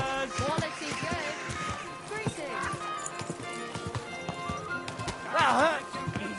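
Horse hooves clip-clopping in the medieval video game Kingdom Come Deliverance 2 around Kuttenberg, a steady irregular patter of hoofbeats with a snort or whinny near the end, while characters talk over it.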